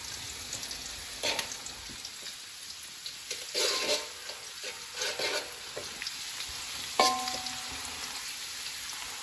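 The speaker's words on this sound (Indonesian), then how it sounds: "jadi ini bawangnya digoreng" Shallots sizzling as they fry in a pan, a steady crackling hiss with occasional louder pops and stirring scrapes, close up and without talk.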